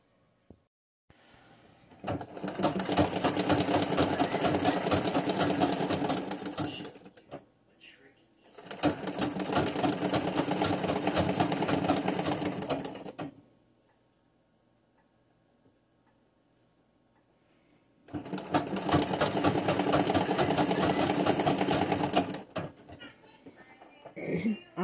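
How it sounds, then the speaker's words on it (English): A treadle sewing machine stitches in three steady bursts of rapid mechanical clatter, separated by quiet pauses, recorded close up. "I still like to use my treadle sewing machine"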